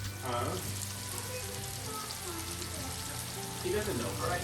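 Mushrooms fry in a pan with a steady, dense sizzle that fills the whole stretch, a bit louder near the end, with faint voices mixed in.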